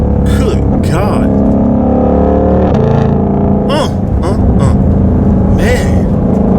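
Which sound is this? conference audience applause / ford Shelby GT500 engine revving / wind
ford Shelby GT500 engine revving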